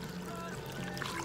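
Water dribbling and pouring from a hose into a dairy farm water trough in a steady, continuous trickle, close by, with no voices.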